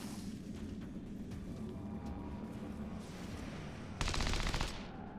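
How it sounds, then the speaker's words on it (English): Overwatch fire from a ballistic SMG in XCOM 2 with Long War of the Chosen mods, a rapid burst of automatic gunfire cutting in near the end over a steady dense game background. "Ballistic SMG Overwatch."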